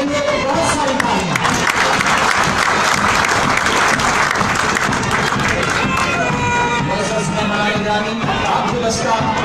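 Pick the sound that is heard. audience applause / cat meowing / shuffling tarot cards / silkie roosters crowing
audience applause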